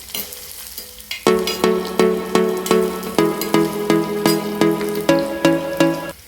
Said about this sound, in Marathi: कांदा टाकून देऊन छान लाल होईपर्यंत कांद्याला परतून घ्यायचा आहे